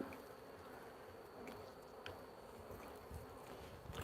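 Honey bees droning steadily around an opened hive during an afternoon inspection, a dense, continuous buzz close to the listener with no talking.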